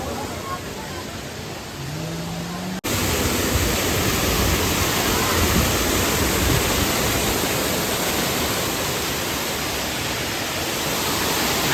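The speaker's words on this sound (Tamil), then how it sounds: "மேல இருந்து கீழே அப்படியே விழுகிற தண்ணி இங்க விழுகுது" A loud, steady rush of water falling from a height at Courtallam falls fills the scene, starting abruptly after a quieter opening and continuing without a break.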